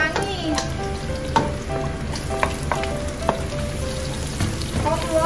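Mushrooms stir-fry in a wok with a loud, steady sizzle and repeated clinks and scrapes of the spatula stirring them through the hot oil.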